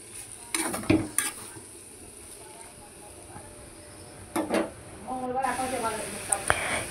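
Spiced vegetables stirred in a pan seasoned with chilli, cumin and turmeric, with bursts of utensil scraping and clatter and a soft sizzle between them, close by, in a home kitchen.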